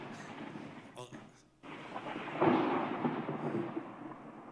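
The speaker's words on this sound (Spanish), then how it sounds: "Cuando cae un trueno cerca" Close thunder crashes and rolls over several seconds during a church service, a deep rumbling burst swelling midway, with a voice speaking over it.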